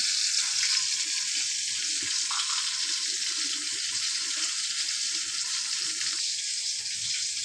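Hot oil sizzles and spatters steadily as spices fry for tempering a chutney, a constant hissing crackle close by with no voices.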